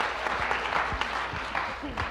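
A church congregation claps during a sermon, a brisk, steady round of applause with a voice calling out over it at times.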